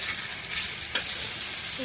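Kachki fish and bottle gourd leaf fritters sizzle steadily in hot oil, a close, constant hiss with a brief scrape of stirring partway through.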